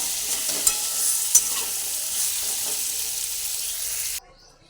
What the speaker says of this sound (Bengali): প্রথমে আমি আলুগুলোকে ভেজে নেব আলুগুলো একটু লাল লাল করে ভেজে নেব